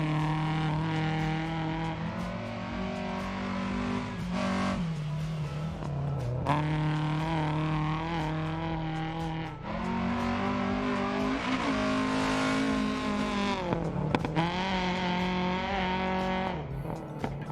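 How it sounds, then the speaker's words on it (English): A rally car engine in the video game Dirt Rally 2.0 roars and revs hard, pitch climbing and dropping through gear changes in a loud, continuous drive with brief lifts off the throttle. "The sounds of the engines have got a big upgrade from the first one as well."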